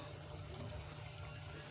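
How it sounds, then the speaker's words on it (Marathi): Water pours steadily into a pan of eggplant in one continuous stream, with a soft broad rushing sound and no talking. "आता ह्याच्यात थोडं मी पाणी घालते"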